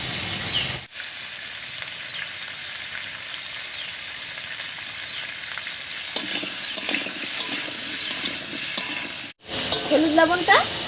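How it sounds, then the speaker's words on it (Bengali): Papaya and potato pieces stirred in hot oil, a steady frying sizzle with scraping stir strokes, close and continuous with a couple of brief pauses. "তেলের উপরে পেঁপে আর আলুটা দিয়ে একটু নাড়িয়ে নিয়েছি"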